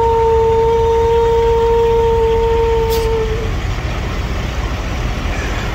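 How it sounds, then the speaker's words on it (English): Truck on the road between Illinois and Tennessee, a loud close engine rumble with a steady humming tone that drops away partway through, heavy low noise continuing after, a voice faintly present. "Oh, look at that truck."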